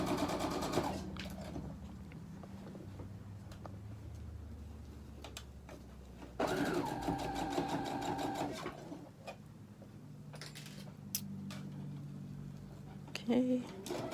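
A sewing machine stitches over sequins on a pair of jeans, running in short whirring bursts with ticking and rattling between them. A voice speaks intermittently over the machine.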